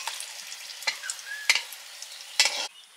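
Young jackfruit pieces, cut like meat chunks and coated with salt and turmeric, frying in oil, a soft steady sizzle broken by a few sharp stirring scrapes and clinks, close and moderately loud with no talking.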